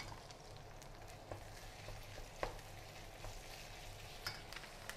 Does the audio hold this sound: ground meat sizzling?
yes